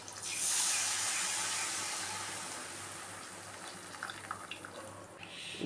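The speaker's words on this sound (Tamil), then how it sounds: "அந்த தண்ணியை ஊற்றிக்கலாம்." Tamarind water, made from about 50 grams of soaked tamarind, pours into a pan of sautéed chillies, giving a loud gushing splash that tapers into a softer trickle.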